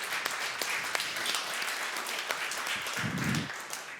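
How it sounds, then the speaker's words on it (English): Audience applause following a startup pitch at an innovation challenge final, a steady dense patter of clapping filling the room at moderate loudness, with no voices over it. "Let's give him one more round of applause."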